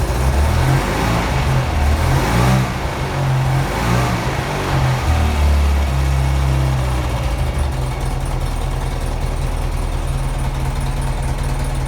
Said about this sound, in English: You could probably get the balance on the carb a little bit cleaner when you open the throttle.